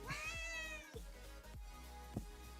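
A pet cat meows repeatedly at close range, a long drawn-out meow followed by a few shorter calls, with no talk over it.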